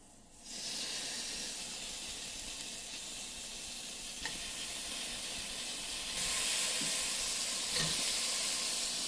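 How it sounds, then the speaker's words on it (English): Steady, dense sizzling of bacon frying in a pan, loud and close, with a few faint clinks and the hiss swelling slightly toward the end. "There, you hear that sound? That's what you want to hear."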